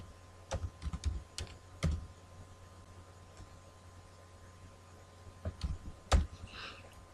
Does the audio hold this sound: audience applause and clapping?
no